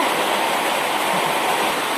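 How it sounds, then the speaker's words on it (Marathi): Heavy rain pouring down, a dense, steady roar of falling water that stays even and loud from start to finish. "पाऊस आला पाऊस लई आलाय"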